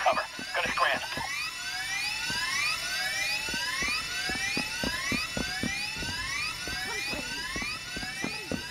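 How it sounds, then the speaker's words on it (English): A drill grinding through a gate in the Payday 3 heist game, a continuous high whining buzz with rising sweeps, loud and steady throughout, with short percussive hits and brief game voices early on. "just drill the fucking gate."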